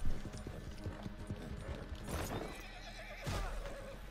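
Horse in the game Red Dead Redemption 2, hooves clip-clopping close by, with whinnies and snorts breaking through, including a loud neigh toward the end.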